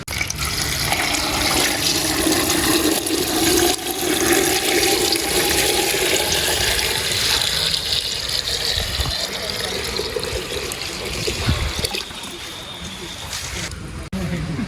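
Steady rush of water pouring into a cooking pot of potatoes for most of the clip, fairly loud and continuous, with a voice talking faintly underneath.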